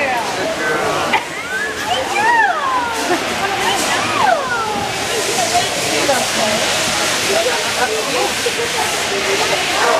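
Water runs and hisses steadily into a bathtub as three dogs are bathed together at a pet expo, with excited voices and chatter over the continuous flow throughout.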